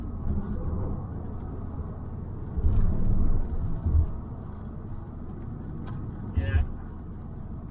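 An Audi TT Quattro with a held-back turbo sputters while driving, its low engine rumble uneven under cabin and road noise, with a couple of heavier surges and a brief spoken word from the cabin.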